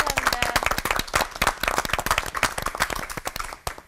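An audience at a televised church lecture by three pastors bursts into warm applause, a dense run of clapping that stays loud and steady for several seconds.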